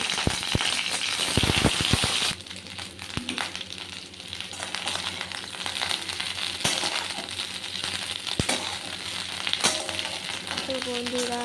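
Cauliflower frying in hot oil, a dense continuous sizzle and crackle up close with several sharp metallic clinks of a utensil against the pan near the start.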